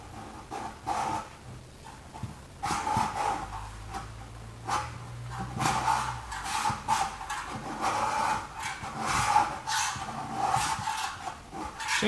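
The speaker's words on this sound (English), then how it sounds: "Taking quite a bit more effort to scrape." Paint being scraped off a Peterbilt 359 truck after a premium paint and epoxy remover was applied, giving repeated rasping strokes of moderate loudness, steady and close, with no talk.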